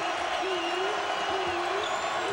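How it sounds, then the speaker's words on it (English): Utah State Aggies fans roar in a packed Boise arena during an NCAA tournament basketball game against Marquette, a loud sustained crowd din with a commentator talking over it. "You can hear the crowd."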